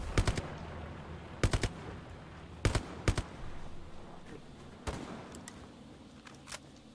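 Short bursts of MG42 machine gun fire in a World War II shooter video game, several separate volleys spread across the stretch, sharp and fairly close over a steady background battle hum, with no talking.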